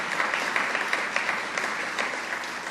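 Audience at a labor event applauding a labor council president, dense steady clapping from a large crowd, moderately loud and continuous throughout with no talk.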